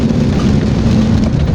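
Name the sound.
rain falling during a storm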